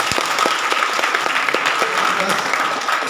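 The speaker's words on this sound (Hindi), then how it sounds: "जरा हाथ उठाकर ताली बजा दीजिए" Audience applause at a literary gathering marking International Language Day, steady dense clapping from a crowd sustained throughout at moderate loudness, with faint voices mixed in.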